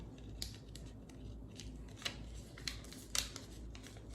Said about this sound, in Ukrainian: От такий листочок ми маємо вирізати.